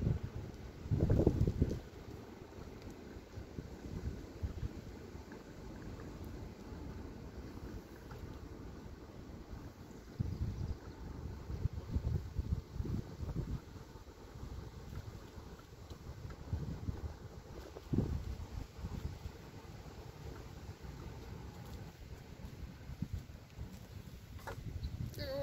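Gusty outdoor wind buffets the microphone along a sidewalk, a continuous low rumble swelling into stronger bursts at intervals, with no talking.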